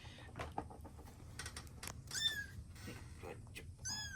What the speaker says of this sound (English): This is Electra's 6 kittens